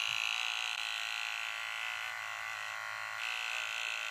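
A VGR V-165 hair clipper running, a steady close electric buzz that holds constant throughout with no voices.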